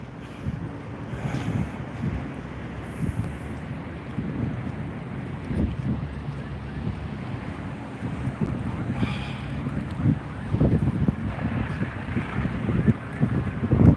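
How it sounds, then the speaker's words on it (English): Strong wind at a structure fire scene buffets the microphone as a steady low rumble with swelling gusts that grow louder toward the end; no one speaks. "But the wind is really picking up too"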